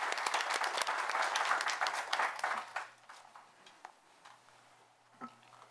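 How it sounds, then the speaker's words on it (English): Attendees at a town board meeting applaud a town employee, a short burst of clapping that tapers off to scattered claps within a few seconds, with a faint steady hum underneath. "We got to give you a little clap."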